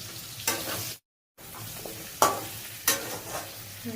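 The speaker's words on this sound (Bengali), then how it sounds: "এবার আলুগুলো একটু ভেজে নেব।" Potatoes fry in a pan with cumin, giving a soft continuous sizzle broken by several close scraping stirs, one short pause, and no talking.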